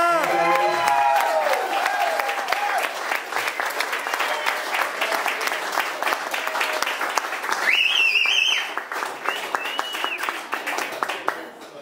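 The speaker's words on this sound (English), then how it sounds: "can we get a round of applause for Chris?" Wedding reception guests applaud loudly and steadily for about twelve seconds, a dense room-filling clapping with a few cheers and whoops rising above it near the end.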